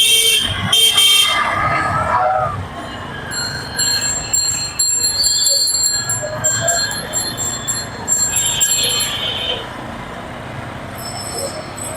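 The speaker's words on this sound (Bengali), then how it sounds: "আমার অবশ্য ভাগ্য ভালো এসে দেখলাম যে ট্রেন যাচ্ছে" A train rolls past on a railway line with rumbling wheels and shrill metallic squeals and tonal whines rising and fading, fairly loud and near, with faint background voices.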